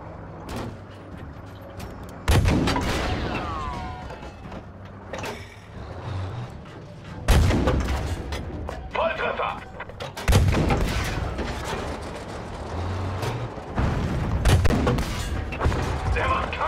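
Bombs burst in a Battlefield V battle, several heavy booming blasts arriving every few seconds over continuous rumbling war noise, loud and close.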